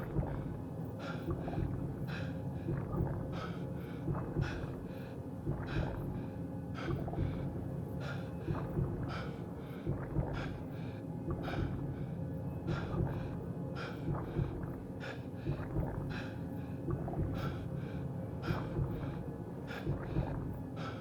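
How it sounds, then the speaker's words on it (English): Rhythmic in-game breathing repeats steadily, each breath a short raspy gasp or snort, evenly spaced and moderately loud throughout. "We'll listen to the game breathing."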